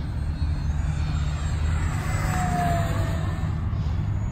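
An Eleven Hobby F8F Bearcat RC warbird, 1100mm span on 4S power, drones steadily overhead in flight; the engine hum stays constant and moderately loud throughout, with no voices.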